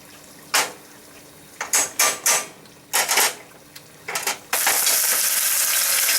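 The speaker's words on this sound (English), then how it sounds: "Throw your meatballs right in there." Large meatballs drop into a hot, high-heat pan and sizzle, with several scraping, clattering bursts as they go in before a loud, continuous frying hiss takes over near the end.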